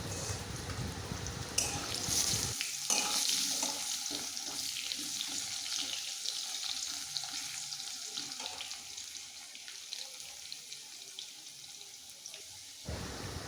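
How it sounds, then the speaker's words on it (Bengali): Potatoes frying in oil in a pan on a home stove, a soft continuous sizzle and crackle at low level, with a brief louder clatter near the start and no talking. "এবার আলুগুলো ভেজে নেব ভালো করে"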